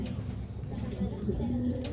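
A racing pigeon coos softly in low, breathy notes, heard faintly against a background with human voices around it.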